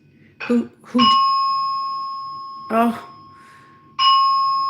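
A building's fire alarm chime sounds twice in Toronto, each a clear two-tone ding that rings out and slowly fades, with brief bursts of talking in between.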